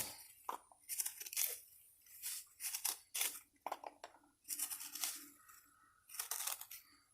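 A tool scrapes and gouges into an uncured cement pot, making a series of gritty, crunchy cutting strokes in irregular bursts with quiet gaps between them, close and fairly soft.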